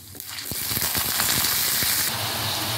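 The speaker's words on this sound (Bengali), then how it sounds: "বেগুন ভেজে নেব।" Brinjal sizzles in hot oil for a radish-greens bhorta, the steady close frying hiss broken by scattered sharp crackles and pops, with no one speaking.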